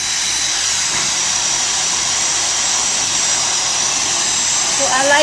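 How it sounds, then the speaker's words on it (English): A handheld hair blow dryer runs continuously while drying the hair roots, giving a loud, close, steady rushing whoosh of air with a slight shift in tone near the end. "Okay, so I'm gonna go in with my blow dryer."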